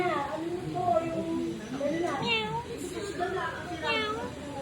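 A cat meows repeatedly in short rising and falling calls, close by, mixed with people talking.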